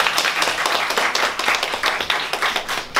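A steady patter of hands clapping fills an awards ceremony for young girls, brisk and dense without a break, with no voices standing out.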